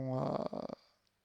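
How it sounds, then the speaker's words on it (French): A person at three in the morning lets out a drawn-out, voiced yawn close to the microphone. It swells, wavers and breaks off into a fading breath, with no talk. "Excusez-moi, j'ai un bâillement."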